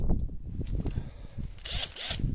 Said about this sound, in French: je vais prendre ma visseuse avec du cruciforme